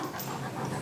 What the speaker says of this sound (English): this dog is a trained service dog